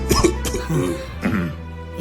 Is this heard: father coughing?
yes